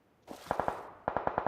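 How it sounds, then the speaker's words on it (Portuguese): Quiet automatic gunfire in PUBG Mobile: a short burst of three rapid shots, a brief pause, then a faster burst of five shots, somewhat distant. "Ele atirando em mim."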